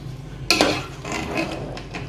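A spoon scrapes and clanks against a pot as beef biryani is stirred and mixed, a sharp metallic knock followed by a couple of seconds of softer scraping and shuffling of rice, close and fairly loud.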